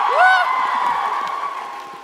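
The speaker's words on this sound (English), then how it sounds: "the amount you cheer for everything will fill that time up great" A live crowd at a TwitchCon LGBTQIA+ panel cheering and whooping loudly, a dense sustained roar with high shouts standing out at the start, fading slightly toward the end.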